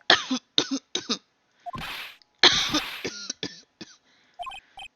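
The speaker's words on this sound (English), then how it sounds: "Just try not to give me that cough of yours" A series of short, stylized cough bursts from Phoenix Wright: Ace Attorney Trilogy, several in a row separated by brief gaps, with electronic game-like blips between them.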